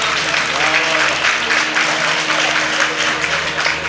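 Steady, dense applause from an audience during a kirtan, a continuous wash of hand clapping that fills the clip with no clear pauses.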